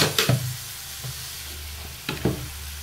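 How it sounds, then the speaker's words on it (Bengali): A spice masala of ground coriander and cumin sautéing in a pan gives off a soft, steady sizzle, with two louder bursts of stirring scrapes and spoon knocks near the start and end. No one speaks. "আবার মশলাটাকে একটু কষাচ্ছি"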